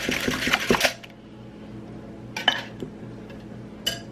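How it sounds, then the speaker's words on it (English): A whisk beats eggs and sugar together in a bowl, giving a quick run of rapid metallic clinks for about a second. Near-silence follows, broken by a couple of faint taps. "we're going to whisk these together till they're kind of lighter and fluffy"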